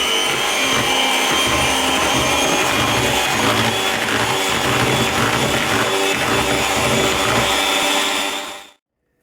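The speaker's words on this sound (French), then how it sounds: "Et là, on va fouetter donc la préparation pendant à peu près 2 minutes." Strawberry cornetto mixture being beaten with an electric whisk, a steady loud motor whine running continuously close up for about eight seconds before cutting off abruptly.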